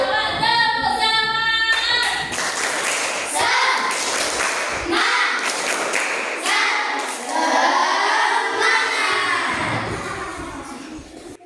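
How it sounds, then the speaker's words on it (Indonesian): Children clap their hands in a classroom, a burst of scattered claps at the start giving way to children's voices and adult talk that carries most of the clip. "Ayo tapi nggak gitu. Tepuk tangan."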